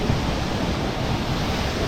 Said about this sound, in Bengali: দেখার মতো বিভৎস সুন্দর ওয়াটারফলস, 70 ফিট ওপর থেকে